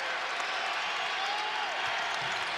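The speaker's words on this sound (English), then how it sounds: "Crowd into it." A basketball arena crowd roars steadily during a close college game, a dense, sustained wash of cheering and noise with no breaks, loud and enveloping, with faint play-by-play commentary beneath it.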